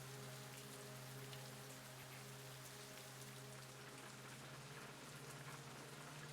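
Steady, dense rain pours without a break in Fatal Frame III, a close hiss of drops on surfaces with a low constant hum beneath.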